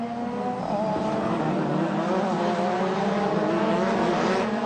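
Star Mazda race cars roar past on a street circuit, their engines droning loud and continuous with shifting revs as several cars run close together.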